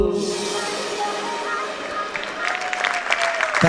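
Audience applause at a stage show, a dense wash of clapping that swells after a song ends and then thins into scattered claps as a voice begins talking over it.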